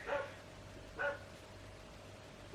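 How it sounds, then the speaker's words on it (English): A neighbour's dog barks twice, about a second apart, at a moderate distance, two short separate barks against a steady low indoor hum with no talking. "the neighbour's dog has decided to bark."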